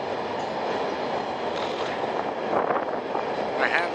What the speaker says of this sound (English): This is a long train again.